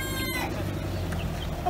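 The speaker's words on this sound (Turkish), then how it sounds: "köy tavuğumuz da artık gık gık yapmaya başlamış" A village hen clucks in a farmyard coop among roosters and chickens, a low, steady, close murmuring cluck under a constant background hum, with a brief sharper note near the start.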